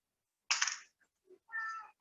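A house cat meows nearby in a pushup exercise setting, one clear call, then a brief faint chirp and a second longer meow, with silence between them.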